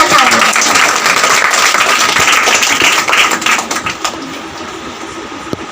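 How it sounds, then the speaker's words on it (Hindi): An audience at a school prize distribution program applauds a prize winner, a loud burst of many hands clapping that gradually thins and fades toward the end, with a few scattered claps trailing off. "उनके लिए जोरदार तालियां।"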